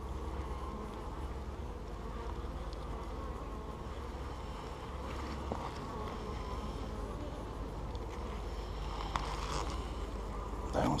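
Honeybees buzzing around an opened hive during a March inspection, a dense continuous drone close by with no talking, steady throughout.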